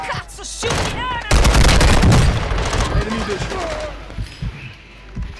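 Police gunfire in Call of Duty, rapid automatic bursts and loud volleys close by, with a voice shouting over the shooting.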